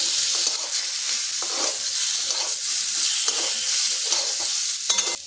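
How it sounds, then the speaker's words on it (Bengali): Steamed mango pieces stir-fry in mustard oil with crackling mustard seeds in a wok. A continuous close sizzle is broken by scraping stirs, with no voices. "আর সর্ষেটা যখন পুটুর পুটুর করতে লাগবে তখনই এই ভাপিয়ে নেওয়া আমটা দিয়ে দিচ্ছি বেশিক্ষণ ভাজার দরকার নাই এক মিনিট নেড়ে নিলেই হবে"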